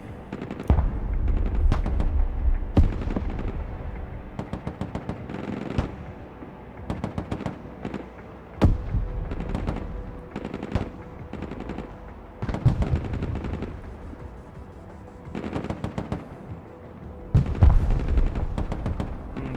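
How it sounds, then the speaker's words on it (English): Artillery shells striking a building in the video game Broken Arrow, with a steady series of loud, rapid impacts and bursts, like heavy gunfire and booms, over a rumbling battle background and no speech. "the artillery is hitting the building"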